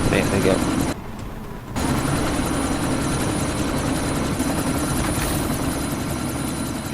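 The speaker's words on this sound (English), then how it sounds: "you need to disable that chopper" Helicopter in the video game Deus Ex Mankind Divided, a loud steady rotor and engine roar that drops briefly then returns and holds, dense and continuous with no pause.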